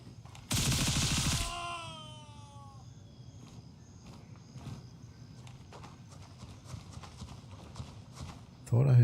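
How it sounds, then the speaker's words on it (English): One loud, sharp gunshot rings out in Gray Zone Warfare, followed by quieter ambient game noise with faint scattered clicks and a brief thud near the end. "Thought I heard another gunshot."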